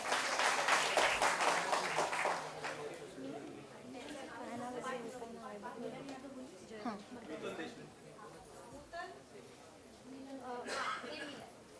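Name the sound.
audience applause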